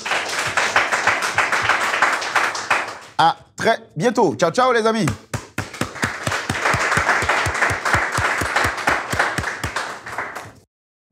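Audience applause at a studio taping of a French driving-school comedy show, broad dense clapping for about three seconds, then a spoken farewell over thinning claps, then a steady rhythmic group clap to the end.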